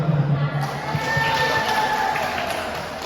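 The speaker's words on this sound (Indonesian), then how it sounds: "Tepuk tangan dulu." Applause and cheering from a crowd during an Indonesian anti-stunting community talk, a dense continuous wash of clapping and voices filling the whole stretch.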